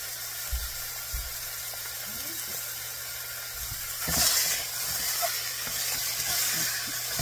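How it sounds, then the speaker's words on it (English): Ground beef for chili browning and breaking up in a pan, a steady close hiss and sizzle with low stirring thumps, swelling louder partway through. "You're just going to want to cook and get that just broken up and brown with everything."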